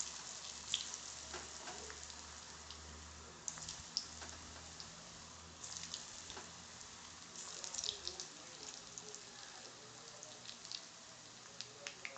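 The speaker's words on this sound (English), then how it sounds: "Oil is ready, so I'm going to fry them." Oil crackles and sizzles steadily as Manchurian balls fry in a pan over a high flame, quiet and close, with occasional louder pops and no talk.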